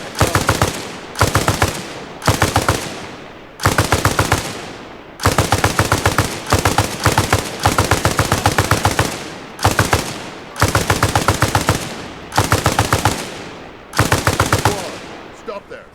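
Machine gun suppressive fire in the Arma Reforger video game comes as about ten loud, rapid bursts of automatic gunfire, each lasting roughly a second and separated by short pauses.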